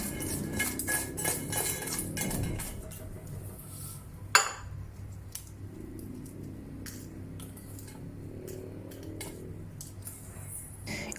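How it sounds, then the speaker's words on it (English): A knife chops seeded dried chili into short sections on a cutting board, a run of quick crisp taps followed by one sharp knock and then sparser, spaced clicks against a quiet background. "Remove the seeds of the dried chili and cut it into a few short sections."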